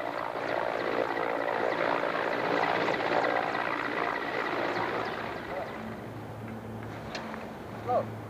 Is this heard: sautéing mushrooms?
no